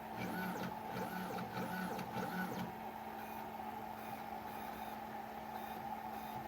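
A Snapmaker 3D printer drives its bed along an axis, giving a series of rising and falling stepper-motor whines that sweep up and down several times, then settle into a quieter steady hum.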